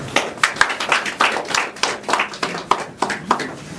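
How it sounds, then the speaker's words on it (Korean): Scattered, sharp hand claps sound close and bright, roughly a dozen uneven claps from a small audience at a talk, with no speech over them. "여기서 박수가 한번 나와요."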